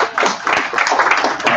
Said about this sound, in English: Can we give them a quick round of applause for all the great work that they do?